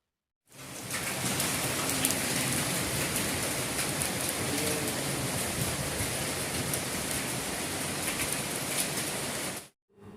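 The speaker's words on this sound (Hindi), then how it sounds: "यह प्रभु श्री जी की नगरी में इन दिनों हो रही मानसून की हल्की बारिश के दृश्य हैं" Light monsoon rain falls in the town of Shrinathji, a constant broadband hiss that fades in, holds evenly for about nine seconds, then stops abruptly.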